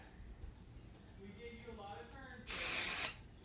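Hair spray hissing from an aerosol can onto sectioned hair in a salon, one loud burst lasting about half a second near the end, after someone speaks.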